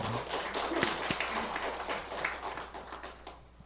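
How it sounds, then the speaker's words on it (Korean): A church congregation claps along in a worship service, a loose scattered run of hand claps and taps of moderate loudness with no talking over it. "박수도 쳐야 된다니까요"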